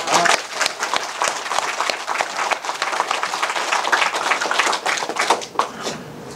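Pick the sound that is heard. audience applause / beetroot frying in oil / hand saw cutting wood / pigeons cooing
audience applause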